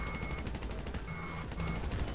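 Distant rapid gunfire in GTA rattles on in steady, faint bursts that run continuously through the whole stretch, with no talking over it.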